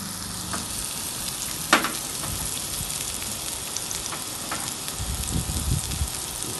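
Chopped onion sizzling and frying in a little oil in a pan, a steady close hiss with occasional pops and soft stirring sounds.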